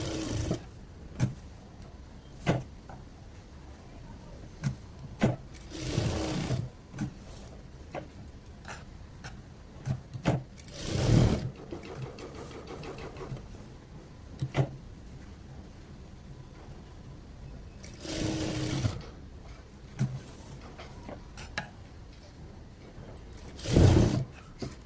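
A sewing machine stitches a border design onto a saree in short, separate runs, each a loud rattling burst of a second or so, with quieter handling and ticking sounds between them.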